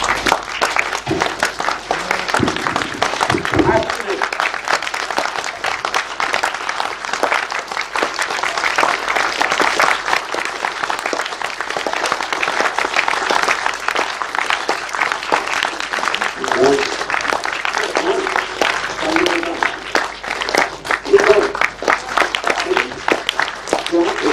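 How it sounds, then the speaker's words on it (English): At a Vedic yajna festival in Goa, an audience claps loudly and dissonantly in a dense, continuous roar of applause lasting over twenty seconds, with voices mixed in underneath. "So let's keep it dissonant and loud. Dissonant clapping."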